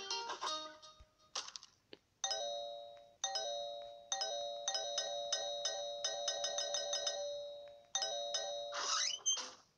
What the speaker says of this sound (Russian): Давайте купим новый звонок.